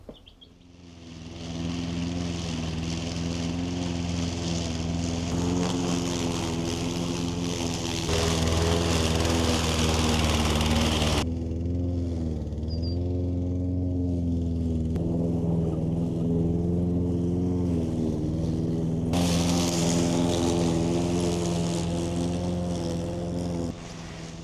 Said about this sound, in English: So I had to pull out my push mower this afternoon and mow down.